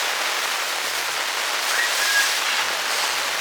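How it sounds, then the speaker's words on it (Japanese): Heavy rain pounding on a camping tent in a downpour, a dense, constant loud hiss close overhead with no break and no talking. "いやー、雨がひどい。"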